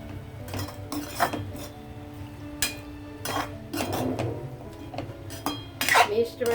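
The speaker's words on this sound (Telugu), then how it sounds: "ఇదిగో పుదీనా, ఇదిగో కొత్తిమీర యాడ్ చేసుకున్నాం. ఒకసారి కలుపుకుందాం దీన్ని" Mint and coriander are stirred into a cauliflower biryani, a metal spoon clinking and scraping against the pot in irregular knocks and rattles, close and moderately loud with no voices.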